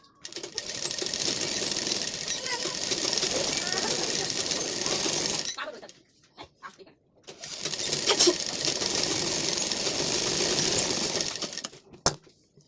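A sewing machine stitches the side seams of a lined blouse in two long steady runs, broken by a short pause with small clicks and a sharp tap near the end.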